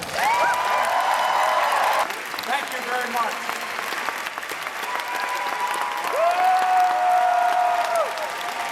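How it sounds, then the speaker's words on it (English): An audience at the Netroots Nation event applauds the Vice President with a strong burst of clapping that eases briefly and then swells again, while a speaker's voice comes in over it. "could all of you give a boisterous applause to the Vice President of the United States of America,"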